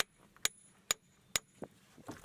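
A hammer strikes an anvil floating in a bath of mercury, giving three sharp metallic hits spaced about half a second apart, followed by a few softer knocks and clatter at close range.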